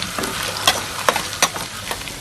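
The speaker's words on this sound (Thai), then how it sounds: "นี่พัดเครื่องพวกนี้ให้มันหอมจังหน่อยก่อนเนาะ" Garlic and spice paste stir-fry in a pan for a spicy wild boar dish. Close, continuous sizzling is broken by several sharp scraping strokes of the spatula.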